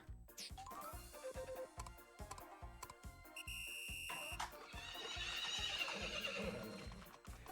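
A video-game horse race, with horses neighing and whinnying over rhythmic galloping hoofbeats, bright game music and alert-like tones throughout.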